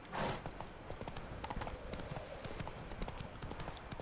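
Roach, a horse in The Witcher 3: Wild Hunt, gallops with a steady, rapid clip-clop of hooves throughout, fairly faint and continuous with no talk over it.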